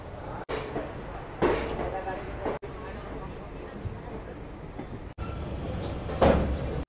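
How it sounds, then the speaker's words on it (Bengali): A passenger train pulls out of Sealdah station, heard from inside the compartment as a steady low rumble with periodic clunks and surges of wheel noise, with people talking nearby. "ঠিক সঠিক সময় আমাদের ট্রেন ছেড়ে দিল শিয়ালদা স্টেশন থেকে"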